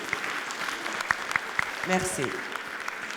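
An audience at the general assembly of a women entrepreneurs' world congress applauds with a steady patter and scattered sharper claps, while a voice speaks briefly over it.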